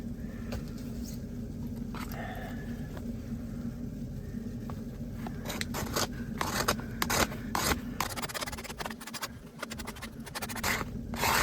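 Wood shavings scraped by knife from a long stick for starting a fire at a snowy car camp give close, irregular scratching strokes that grow busier and more rapid partway through, over a low steady hum.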